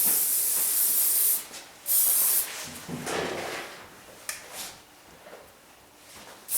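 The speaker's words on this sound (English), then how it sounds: "Then I always like to finish by spraying it." Hairspray hisses out in two short bursts followed by a longer spray, close to the microphone, with quiet rustling between, finishing a longer men's hairstyle.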